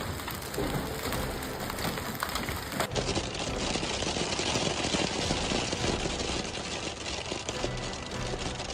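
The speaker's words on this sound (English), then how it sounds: "Each stone fell from the sky into West Virginia, as if it wanted to pierce the ground." Hailstones pound down in a summer hailstorm in West Virginia, a dense, loud and unbroken roar of impacts that stays steady throughout with no voices.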